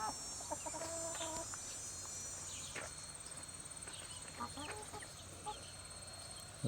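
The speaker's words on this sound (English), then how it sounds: "We now have 9 chickens." Nine chickens in a fenced garden coop cluck and murmur in short, scattered calls at moderate distance, with insects chirring in a steady background hum and no talking.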